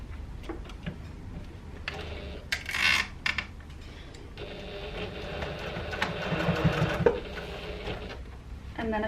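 A sewing machine topstitches a tote bag, a whirring, ticking motor run that builds and steadies in the second half, with a few brief clicks and handling noises before it.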